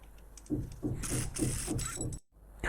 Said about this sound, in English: And I'm also going to use my impact gun to do it.